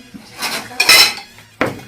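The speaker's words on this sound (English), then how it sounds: "You cover your frying pan and you cook it at a medium heat." A metal lid clatters onto a frying pan, with a couple of sharp clanks and a ringing scrape, close by.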